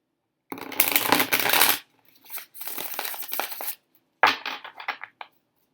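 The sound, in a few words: shuffling tarot cards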